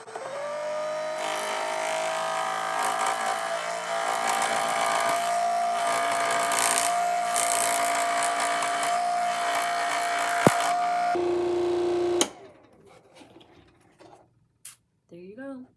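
A Chompsaw cuts cardboard with a steady, close electric buzz and a sustained whining tone for about eleven seconds. It then drops in pitch, stops abruptly, and a few faint handling clicks follow.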